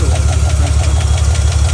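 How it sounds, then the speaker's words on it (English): Truck engine with a developing fault, idling loudly up close with a rapid, steady knocking and tapping rhythm over a deep running drone. "There's a loud tapping noise or a knocking noise."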